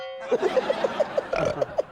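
A person makes a drawn-out burp that breaks into a quick series of about ten croaking pulses, close and loud, in a studio setting.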